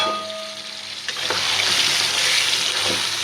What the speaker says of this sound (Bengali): সিমলা মাছগুলো সব দিয়ে দিলাম